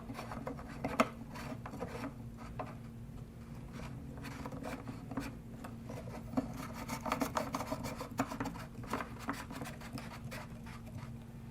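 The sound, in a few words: threading pipe fittings onto a Hayward multiport valve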